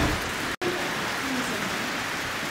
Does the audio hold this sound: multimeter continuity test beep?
no